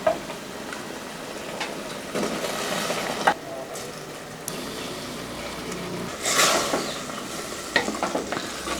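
A spoon scrapes and stirs broken wheat vegetable rice around a pot in uneven strokes over a soft continuous sizzle, close up and with no talking.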